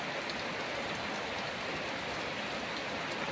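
Heavy rain pours down steadily, a dense unbroken hiss with no wind gusts or thunder.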